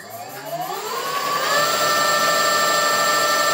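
An electric motor spins an unbalanced wheel up to full speed, its whine rising steeply in pitch over the first second and a half, then holding a loud, steady tonal drone with a rough rumble underneath.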